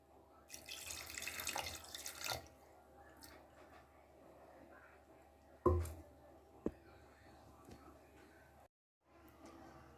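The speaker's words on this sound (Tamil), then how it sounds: "கொஞ்சம் தண்ணி சேர்த்துக்கலாம்." A brief gush of water splashes into a pot of mutton curry, close and soft, followed by a few quiet clinks and bumps in a mostly hushed room.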